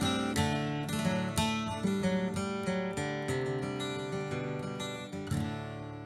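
A stringed instrument picks out the opening section of the melody of Paddy's Green Shamrock Shore, one clear plucked note after another with ringing sustain, played alone at a steady, unhurried pace.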